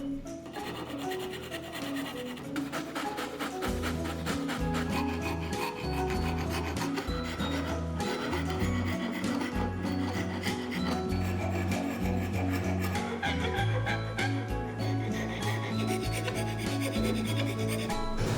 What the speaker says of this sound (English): I brought it to a local wood shop in my college to sand it down and make it really rounded